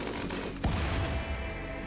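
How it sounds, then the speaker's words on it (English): Game turrets in a grasslands survival game fire and blow up in a dense, loud burst of gunfire and blasts, one sharp explosion cutting through a continuous rumbling barrage. "Hopefully the explosions from the turrets aren't so bad."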